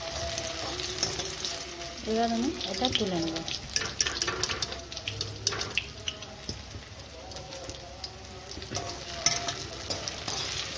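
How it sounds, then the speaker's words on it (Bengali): Onions frying and being stirred in a pan for paneer chili, a steady sizzle with intermittent scraping stirs throughout, fairly close, while a person speaks briefly over it. "এদিকে পেঁয়াজ ভাজাও ভালো করে হয়ে গেছে দেখুন"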